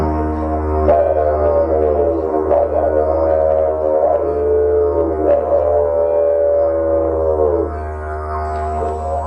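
Over a continuous low didgeridoo drone, a long wavering, rising and falling vocalized tone imitates a dingo's howl, sustained for several seconds.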